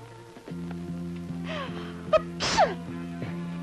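A single sharp sneeze bursts out indoors over a steady low hum, followed by a smaller breathy sound, and no one speaks during it.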